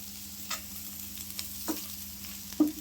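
Crispy potato fry being stirred in a pan after salt is added: a constant low sizzle broken by a few distinct scrapes of a spatula, the last one loudest, with no voices.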